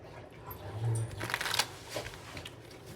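Puppies scuffling and whimpering indoors, soft scratchy rustles and short yelps scattered across a few seconds, with a low murmur of room noise underneath.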